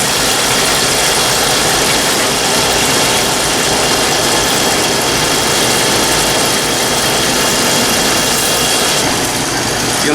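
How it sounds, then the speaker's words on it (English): A fryer oil filtering machine pumps used oil back into a restaurant fryer, producing a loud, unbroken mechanical hum and whir that holds steady throughout with no voices. "You'll notice at the end when the machine begins to finish filtering all the oil back into the fryer"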